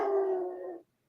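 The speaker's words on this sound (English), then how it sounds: "That is my 110-pound puppy barking" A large 110-pound Dalmatian puppy lets out a single drawn-out, howling bark in a backyard, lasting under a second and followed by silence.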